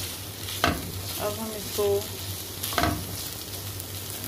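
Shawarma filling fries in two tablespoons of oil and gets broken up with a spoon, a steady sizzle with a few sharp scraping stirs while a voice speaks briefly.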